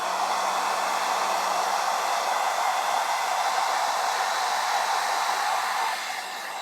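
Hair dryer blowing on a freshly painted Warhammer miniature, a loud, continuous airy whoosh with a steady motor whine that drops slightly in level near the end.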